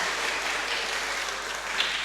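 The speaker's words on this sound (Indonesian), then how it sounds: "tepuk tangan dulu untuk anak-anak" A church congregation applauds the Sunday school children at a Sunday service, a steady, dense burst of clapping from many people filling the room.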